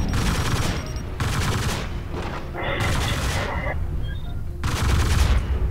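Mech weapons firing in MechWarrior Living Legends, aimed at a Nova Cat mech, come as four or five loud blasting volleys with rumbling low-end booms, layered over constant heavy battle noise.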